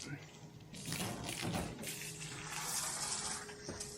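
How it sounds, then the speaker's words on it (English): Tap water runs steadily into a bucket outdoors while a car is being washed, a continuous splashing gush that is close and fairly loud. "Filling it with water."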